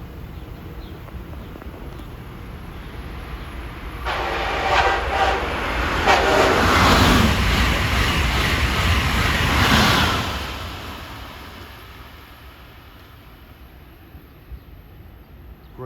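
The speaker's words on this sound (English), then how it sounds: "Get one more 150-mile-an-hour run by." An Acela Express high-speed train roars past at 150 mph through Princeton Junction, New Jersey, swelling from a distant rumble into a loud, broad rush for several seconds before fading away.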